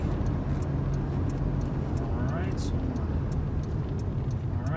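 Interior road noise from a 2004 Nissan Xterra 4x4 on a brake test drive, a steady low rumble of engine and tyres throughout, close and even, with faint ticking above.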